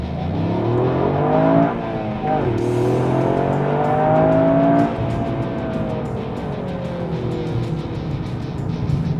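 A Toyota GR Yaris three-door hatchback driven in sport mode with torque split 70 rear, 30 front: loud close engine note rising and falling through revs and gear changes, accelerating hard in one continuous run.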